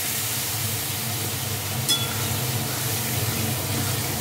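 Water goes into a hot pan of sautéing fish for a fish-head moong dal, sending up a loud, steady sizzle and hiss from close by, with a brief clink partway through and no talking.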